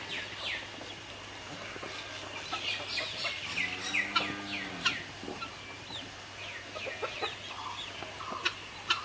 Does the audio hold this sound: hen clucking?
yes